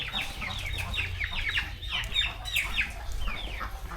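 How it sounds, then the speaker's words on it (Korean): Many chickens cluck and chatter continuously at close range in Vietnam, overlapping calls forming a busy flock over a low background rumble. "오씨 뭐야 닭이 너무 많은데?"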